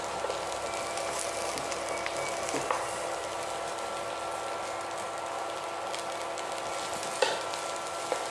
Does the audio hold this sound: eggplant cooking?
yes